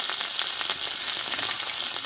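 Crushed green chili and ginger with turmeric fry in hot oil, a steady close sizzle with faint crackles and no talking.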